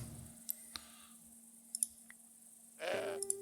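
A goat in the video game Broken Sword 5: The Serpent's Curse gives one short bleat near the end, over a quiet background hum with a few soft clicks.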